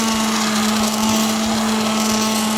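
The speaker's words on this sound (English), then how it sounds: "I just wanted it to be slightly more smooth, so I'm using a blender." A blender running steadily to smooth a baked egg batter of eggs and milk, giving a loud continuous motor whine with a strong low hum, close and without any talk.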